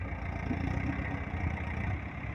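A tractor engine, an 855, idles in a low, steady diesel rumble with a faint rhythmic chug, moderately close, with no voices.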